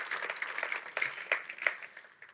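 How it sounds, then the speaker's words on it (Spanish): A church congregation applauds during a pastor's sermon, a brief spell of moderate clapping with scattered distinct hand claps that fades toward the end. "Aquí dale un aplauso"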